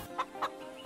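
A hen in an animated cartoon gives two short clucks in quick succession, close and clear, followed by a fainter third note.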